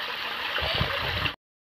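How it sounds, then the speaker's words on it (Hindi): Water flowing in a forest waterfall stream, a steady close rushing and gurgling that cuts out abruptly to silence near the end before briefly returning. "झरना है और झरना में पानी बहता है और पानी इतना कम बहता है कि बाढ़ नहीं"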